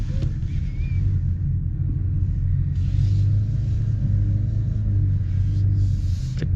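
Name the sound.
2025 Ford Maverick XLT four-cylinder engine accelerating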